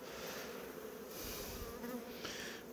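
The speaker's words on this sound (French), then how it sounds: "On a bien pourtant des abeilles." Honeybees buzzing steadily around an open beehive, a dense continuous drone of many insects with passing swells as bees fly close to the microphone, no voices.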